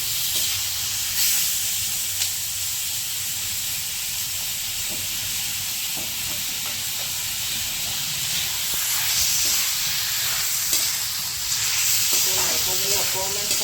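Local chicken fries in a pan with capsicum, a constant loud hiss of steam and sizzle, with faint scrapes and clinks now and then.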